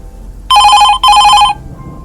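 A telephone rings in two bright electronic bursts, each about half a second, separated by a short gap, loud and close, then quiet follows.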